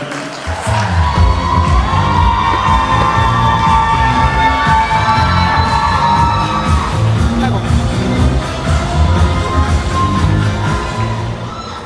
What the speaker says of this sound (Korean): 박수와 함께 모시도록 하겠습니다.